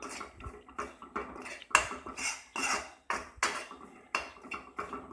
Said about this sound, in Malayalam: 2 ടീസ്പൂണോളം മുളക് പൊടി ചേർത്ത് കൊടുക്കുന്നുണ്ട്. നമുക്ക് നന്നായിട്ടൊന്ന് ഇളക്കിയെടുക്കാം